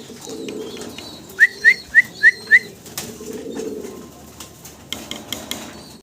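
Pigeons coo softly in low murmurs, and a quick run of five bright chirping whistles sounds in the middle.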